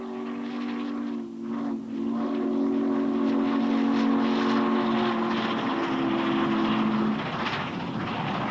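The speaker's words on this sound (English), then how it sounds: "Norfolk and Western's Class J 484 number 611, surely one of the world's most beautiful steam survivors" Norfolk and Western Class J 4-8-4 number 611 steam locomotive sounds its whistle, a long, loud chime-like blast that breaks briefly and resumes for several seconds over the rumble of the moving train.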